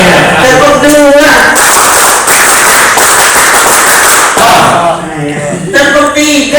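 Seminar audience in an Indonesian mosque-management event clapping in a loud, dense burst of many hands, with a speaker's voice before and after the claps.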